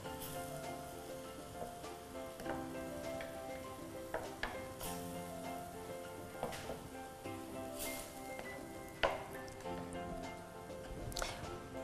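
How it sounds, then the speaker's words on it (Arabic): Onions fry in a pan with a soft, low sizzle, punctuated by occasional utensil clicks and taps, faint beneath steady tonal background sound. "لازم علينا نقليو مليح البصل هذا"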